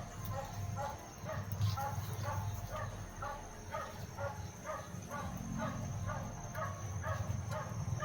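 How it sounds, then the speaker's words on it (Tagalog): A dog barks repeatedly in a steady series of yips, moderately near, over a low rumbling background with faint voices. "May aso, no?"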